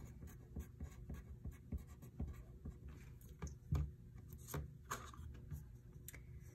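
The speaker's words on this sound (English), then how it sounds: "I'm going to make a dotted line through the center of this pattern and write fold line" A pen scratches across sewing pattern paper, drawing a dotted line through the center of the pattern and writing a label, heard as close, quiet, irregular short strokes and taps with no talking.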